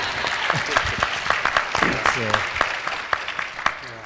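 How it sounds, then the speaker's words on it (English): Conference plenary audience applauds with a sustained, moderately loud wash of clapping while voices talk over it. "give him a round of applause"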